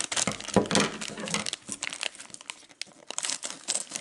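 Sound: opening sealed plastic bags of LEGO minifigures

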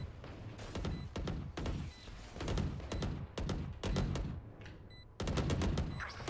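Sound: shotgun fire in Valorant video game

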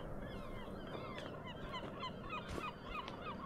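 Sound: seagull cries in the video game Skyrim

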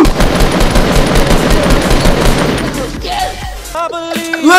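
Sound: gunfire shooting down a target in the video game Fortnite

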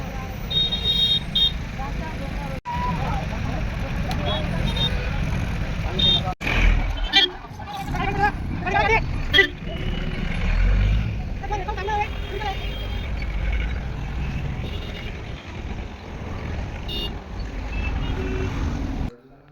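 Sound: road traffic jam with cars and trucks

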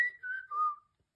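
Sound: person whistling, imitating the sound in a children's book

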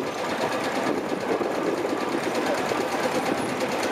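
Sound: vintage tractor engine running

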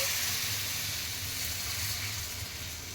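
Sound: dosa batter poured onto hot oiled griddle, sizzling

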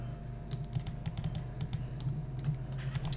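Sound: computer keyboard typing while playing CS:GO

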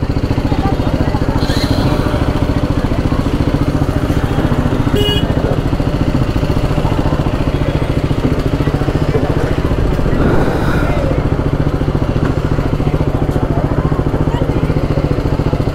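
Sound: motorcycle engine running

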